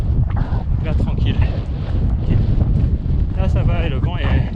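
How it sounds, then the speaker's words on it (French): Desert wind during the Marathon des Sables ultramarathon, steady loud gusting buffeting the microphone, with a voice speaking over it. "le vent est pas encore chaud"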